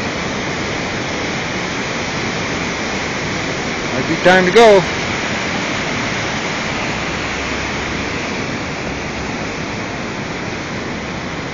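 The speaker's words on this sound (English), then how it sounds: "there's a 24-foot wall of water coming down" A loud, steady roar of rushing floodwater fills the whole clip near the Fourth Street bridge, with a person speaking briefly over it partway through.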